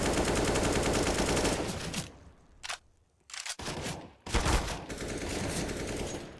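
Counter-Strike gunfire during a professional esports quarterfinal match between Fnatic and Cloud9: dense bursts of rapid automatic shots, a brief lull with scattered single cracks, then sustained loud firing again.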